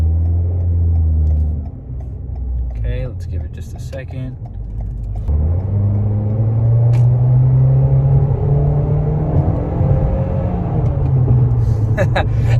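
A Toyota Corolla E210 sedan with a Borla exhaust rumbles low and then climbs in pitch as it accelerates, droning steadily under a brief spoken remark.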